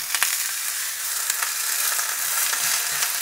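Meat sears in a hot Ecovitam stainless pot with no oil or water, giving a loud, steady hiss of sizzling with small crackles throughout.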